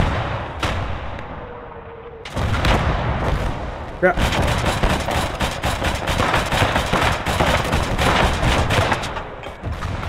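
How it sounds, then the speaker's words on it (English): Autocannon in the Gates of Hell mod Gates of Steel fires in rapid repeated bursts amid dense battlefield gunfire, loud and sustained, with a short pause and a sharp report before a brief spoken exclamation. "Auto cannon's doing some bloody brilliant work"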